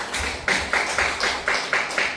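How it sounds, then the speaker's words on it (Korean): Church congregation applause during a Sunday service, a steady run of rhythmic, evenly spaced claps about every quarter second, loud and close with no talk over it. "박수 한번 합시다"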